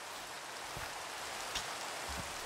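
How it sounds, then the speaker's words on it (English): Rain falls in the Minecraft modpack Create Perfect World, a steady soft hiss of drops with a few faint taps, continuous and even. "Oh, it's raining."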